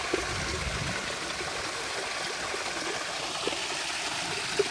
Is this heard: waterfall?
yes